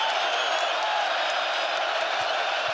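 Home crowd of BYU Cougars fans roaring and cheering inside a basketball arena during a game against Arizona, a steady, dense wall of noise filling the whole stretch.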